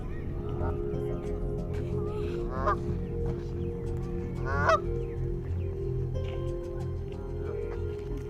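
Canada geese honk a few times over a steady low background, the calls moderately loud, sparse and irregularly spaced.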